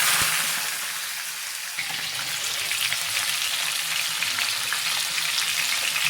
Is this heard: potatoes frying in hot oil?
yes